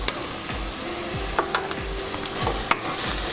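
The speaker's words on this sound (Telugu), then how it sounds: "వేసి కలుపుకోండి." Garam masala being stirred into a prawn and drumstick curry in a pan, a steady low sizzle with repeated scraping spoon strokes and a few sharp taps, close and even.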